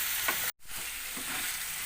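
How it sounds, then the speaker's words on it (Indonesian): Tilapia pesmol with carrot and cucumber sizzling in a pan while being stirred: continuous close frying hiss with a brief break and soft scraping stirs. "terus kita aduk kita aduk terus sampai benar-benar menyatu semua"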